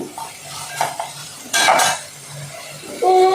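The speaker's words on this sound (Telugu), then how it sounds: "ఉల్లిపాయ ముక్కలు టమాటా ముక్కలు అనేవి ఫ్రై అవుతున్నాయి" Onion and tomato pieces frying with chicken in a pan for a ghee roast gravy, with a low sizzle under close scraping and clinking of a spoon against the pan.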